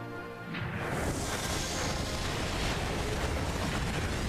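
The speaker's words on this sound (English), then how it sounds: "it's firing a tornado made of fire" A fire tornado attack in Yu-Gi-Oh! The Falsebound Kingdom bursts in after a brief quiet with a whooshing surge, then settles into a loud, steady, roaring rumble of flame that holds for several seconds.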